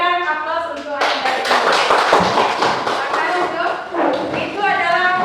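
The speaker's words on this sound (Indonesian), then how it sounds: "Berikan aplaus untuk Anda." Students in a classroom break into brisk group clapping for about three seconds, loud and close, with a teacher's voice speaking before and after it.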